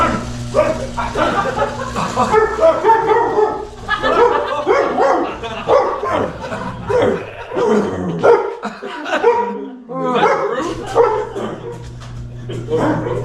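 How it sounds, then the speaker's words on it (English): A dog barks repeatedly in quick bursts, fairly close, mixed with talking voices and some whimpering yips, pausing briefly before resuming. "Whose dog is barking?"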